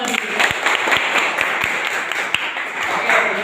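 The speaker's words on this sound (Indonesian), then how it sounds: "Tepuk tangan untuk semuanya" Schoolchildren in a classroom applaud, a steady stream of many small hands clapping with a few sharp louder claps standing out now and then.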